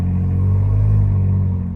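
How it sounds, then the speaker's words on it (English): A Ford Bronco Raptor with a custom exhaust idles close by, a deep, steady, low throaty drone holding even for a couple of seconds with no voices. "Even this mild sound that you can hear right now was due to the custom exhaust"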